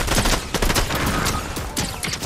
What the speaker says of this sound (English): He's shooting happy down here.